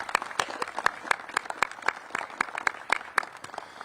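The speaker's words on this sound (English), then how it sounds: "let's give all of our principals a round of applause" An audience applauds school principals at a Mayor Bowser event, a thin, fairly sparse round of distinct handclaps from a modest group, steady and moderately close.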